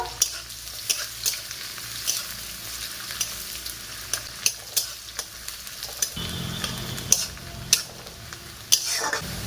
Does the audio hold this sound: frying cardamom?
yes